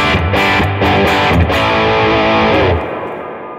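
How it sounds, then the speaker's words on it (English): Loud, distorted electric guitar chords through a Tone King Imperial MKII amp's built-in spring reverb turned all the way up, ringing out and washing into a splashy decay at the end. "this amp has spring reverb built into it, and it's such a vibe, really"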